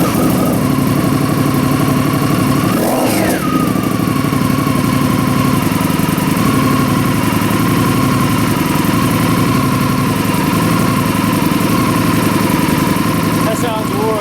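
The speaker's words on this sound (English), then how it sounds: "That sounds way better than the original exhaust." Indian Scout Sixty motorcycle idling with a Bassani 2-into-1 exhaust, a loud, steady, deep rumbling idle that holds even for the whole stretch, with a brief blip near the start.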